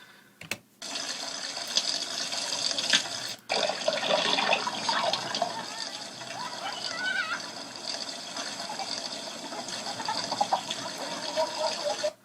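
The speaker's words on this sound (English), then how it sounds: "You've got the sound of the pump, the sound of the water, the sound of the chickens" Running, splashing water with a pump's steady churn, faint clucking and distant children's voices mixed through an outdoor farmyard scene.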